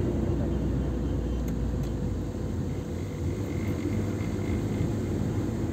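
A car engine drones steadily from inside the vehicle as it climbs the zigzag mountain road toward Nasugbu, Batangas, with only the air-conditioning fan running; the hum is continuous and fairly loud with no talking.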